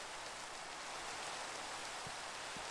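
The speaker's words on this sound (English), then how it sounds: "And it's raining." Steady rain pours through a nighttime scene in a video game, a dense continuous hiss with a couple of faint soft knocks near the end and no voices.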